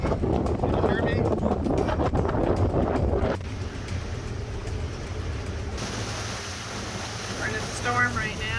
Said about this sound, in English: We're in a storm right now.